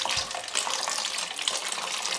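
Water poured onto a model mountain for a school erosion project splashes and trickles in a steady, faint hissing stream.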